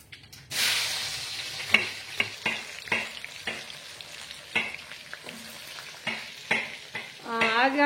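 Bitter gourd pieces fry in hot oil for a Konkani GSB spicy recipe, a steady close sizzle broken by repeated stirring scrapes and clinks of a spoon against the pan.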